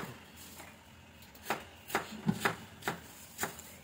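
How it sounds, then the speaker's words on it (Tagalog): Knife chopping through an onion on a cutting board, a series of about six crisp, separate cuts at an uneven pace, close and fairly quiet, with no talking. "maghiwa tayo ngayon ng ating onion"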